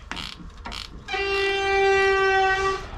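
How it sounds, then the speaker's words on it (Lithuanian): A couple of short knocks, then a loud, sustained train horn blares close by for nearly two seconds, heard during a brake repair. "Pravažiuoja tada traukinys."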